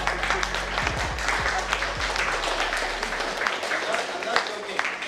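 Group clapping hands during a qigong exercise session, dense continuous applause-like patter from many hands at a steady rhythm, with a voice speaking over it.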